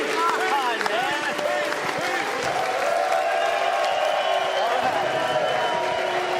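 Crowd at a PBA bowling event, the Pete Weber Missouri Classic, applauding and cheering steadily in a large hall, loud and continuous with voices mixed in.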